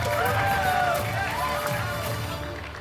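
An audience applauds at the Jaipur Literature Festival, a broad, steady wash of many hands clapping that slowly fades, with a few voices mixed in.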